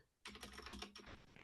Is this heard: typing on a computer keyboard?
yes